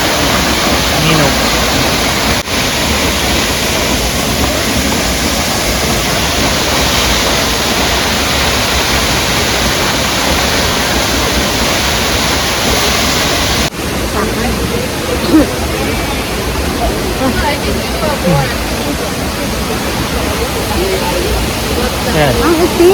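Minoh Falls in Osaka, Japan, pours as a loud, steady broadband roar of falling water that fills the whole stretch, with faint voices of people nearby underneath.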